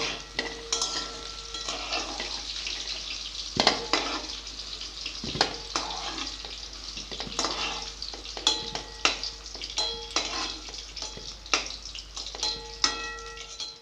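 A bay leaf, green chili, ginger and chopped onion crackle in hot oil, with a close sizzle punctuated by frequent sharp pops, clinks and spatula scrapes against the pan.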